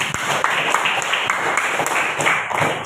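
Students in a school classroom applaud themselves at the end of a lesson, a dense, steady patter of clapping hands at close range, lasting the whole moment without pause.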